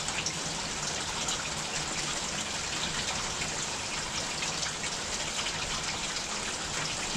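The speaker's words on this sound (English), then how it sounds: "It is actually throwing it down with rain now." Heavy rain pours down steadily over a garden fish pond, a dense, loud, unbroken hiss of falling water with no voices.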